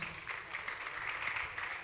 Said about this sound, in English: Can you clap for them?